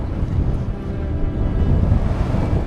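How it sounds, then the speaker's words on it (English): Strong, gusty wind in a dust storm buffeting the microphone on an open path in Tunkhel, Mongolia, with a loud, continuous low rumble throughout. "Ooh, really windy now."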